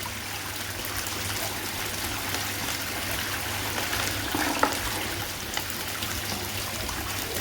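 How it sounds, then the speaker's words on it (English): Water runs steadily through a gold cube sluice set up for prospecting, a constant even trickle and stream at moderate level with no talk. "There doesn't seem to be any way of speeding up or slowing down the pressure of the water."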